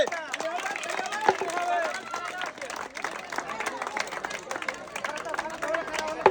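Crowd noise and hand claps at a Bangladeshi game show where players roll balls along a winding track past wooden bottle obstacles into receivers, with babble and cheering throughout and a few sharper claps standing out.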